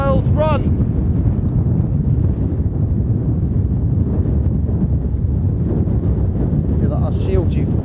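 Strong wind buffets outdoors in Iceland, a loud, constant rushing roar across the microphone that continues throughout, with brief voice fragments faintly at the start and end.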